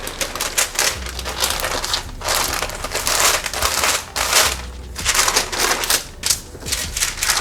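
Paper crinkles and crackles steadily as it is folded and shaped around a mosaic chocolate cake, a close, continuous rustling with sharper crumpling peaks and no talk.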